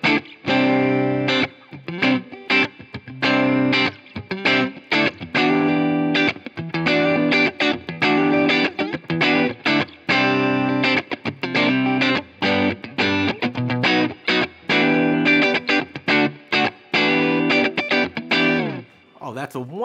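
Electric guitar played through a Boss Nextone Special 80W 1x12 amp on its American EQ setting with 6L6 power amp voicing, chords and single notes ringing with a clean tone and light reverb, continuous throughout.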